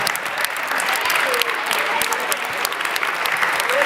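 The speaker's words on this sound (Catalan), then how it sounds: "Aplaudeix al públic." Futsal school players clap for the audience during a team presentation in a sports hall, a steady, loud burst of crowd applause lasting several seconds.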